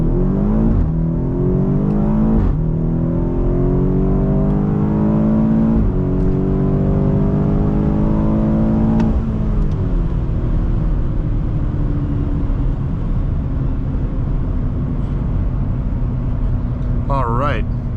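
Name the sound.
2018 BMW X5M accelerating 0 to 60 mph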